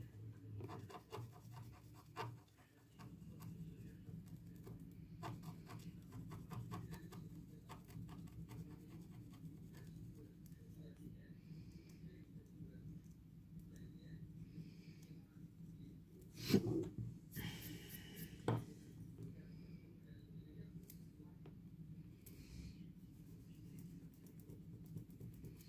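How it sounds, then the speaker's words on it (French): Light, faint scraping of a gold-coated scratch-off card runs in soft repeated strokes over a steady low hum, with a couple of louder rubbing bursts partway through. "Quand on gratte, ça laisse des traces sur le doré."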